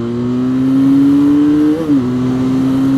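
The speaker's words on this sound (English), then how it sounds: "let me just open the throttle." A Benelli 502C cruiser motorcycle engine holds a loud, steady drone close by as the throttle is opened, rising gently in pitch, with a short dip and shift partway through before settling again.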